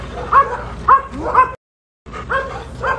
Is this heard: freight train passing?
no